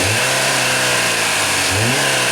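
A Chevrolet Malibu with its original engine runs steadily at idle, then gives two short revs that rise and fall. The sound is close and loud and carries no talk.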